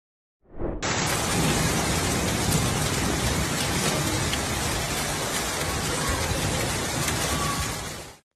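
Heavy storm rain pouring steadily as a dense, loud, continuous hiss that starts abruptly and holds for several seconds before cutting off, with no voices; thunder is not clearly distinct within the downpour.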